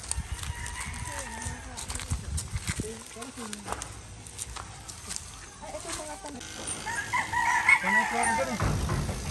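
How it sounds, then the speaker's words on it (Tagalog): A rooster crows several times among clucking chickens inside a coop on a small farm, with voices talking over and between the calls and a steady outdoor background. "silip tayo sa manukan."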